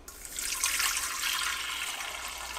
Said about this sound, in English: Water at around 110 degrees Fahrenheit.